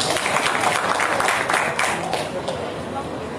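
Applause from a crowd of student demonstrators at a protest outside the Aceh governor's office, a broad steady patter of clapping with crowd babble mixed in, fading slightly toward the end.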